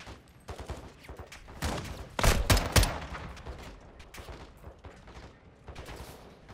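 Gunfire in the Call of Duty: Modern Warfare 2 campaign night mission, scattered shots building to a loud cluster of close blasts midway, then sparser distant pops.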